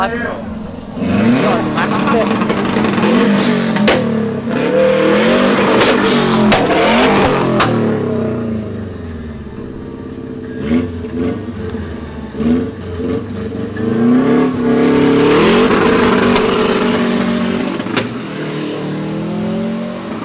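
A VW Gol 4x4's V6 engine revs hard, rising and falling in pitch several times, loud and close, with people talking excitedly over it.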